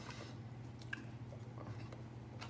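Faint close-up chewing of sticky, gum-like jackfruit flesh, soft wet squishing and bites over a quiet low room hum, with no talking.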